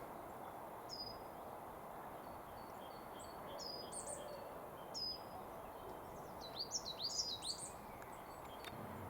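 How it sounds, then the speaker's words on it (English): A coal tit singing outdoors on a countryside walk between Bow Brickhill and Leighton Buzzard: thin, high, repeated notes, faint at first then a quicker run of louder phrases near the end, over a steady hiss of wind. "my Bird Nerd app has predicted with high confidence that that bird I couldn't recognise is a coal tit"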